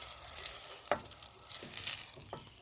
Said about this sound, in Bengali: ওই তেলে দিয়ে দেবো আমি কাঁচা লঙ্কা ও দুটো শুকনো লঙ্কা, দিয়ে ভালো করে ভেজে নেব।